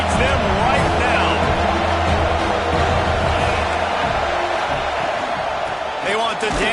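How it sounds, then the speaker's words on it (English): A college football stadium crowd at USC vs Wake Forest roars on third down, a loud and continuous wall of noise under a commentator's talk. "This crowd knows this defense needs them right now."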